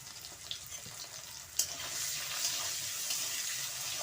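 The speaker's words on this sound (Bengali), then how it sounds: "দিয়ে আলু ভেজে নেব" Potatoes seasoned with salt and turmeric fry in hot oil, a soft, even bubbling sizzle with a brief sharp clatter early on, close and steady with no speech.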